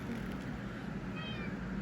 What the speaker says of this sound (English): The cat's in the background.